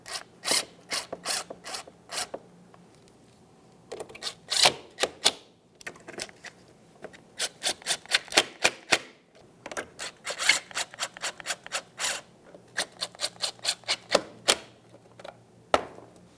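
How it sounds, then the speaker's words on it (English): Rapid clicking ratchet strokes tightening a nut on a 2006-2012 Ford Fusion grille mounting panel, in bursts, close up and fairly quiet, pausing briefly between runs of quick mechanical clicks. "While holding this up, we'll just go ahead and tighten that nut."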